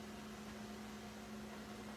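A blow dryer runs steadily in a room during a live craft session, giving a constant even whoosh with a low motor hum that holds level throughout.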